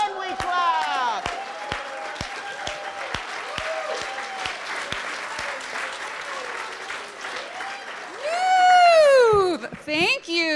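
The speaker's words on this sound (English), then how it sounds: "And then we clap." Audience applause at the 13th Annual SF Peacemaker Awards, with a steady crowd clapping that runs through the clip under singing voices, swelling into louder cheering near the end.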